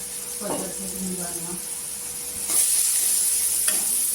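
Gram flour (besan) roasting in hot oil with capsicum and golden fried onion in a pan. It makes a steady sizzling hiss that swells louder halfway through, with brief stirring scrapes and a voice talking over it early on.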